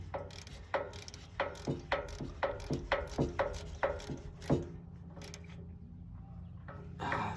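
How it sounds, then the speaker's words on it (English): A ratchet tightening a spark plug on a 1970 VW Bug gives a run of sharp, close mechanical clicks at a quick, fairly even rhythm, about a dozen strokes, then stops and leaves quiet workshop ambience. "let's give her a little snug with the ratchet"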